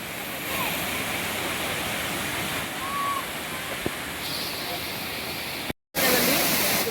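Waterfall at Kothapalli, a steady broadband roar of falling water filling the whole clip at close range, with a brief dropout near the end; no one talks over it.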